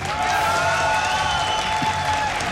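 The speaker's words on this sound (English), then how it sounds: "can hear that roar from the crowd there" A large live audience at a 2015 StarCraft II WCS group-stage match in Germany sends up a sustained, loud roar of cheering and applause that fills the whole stretch without letup.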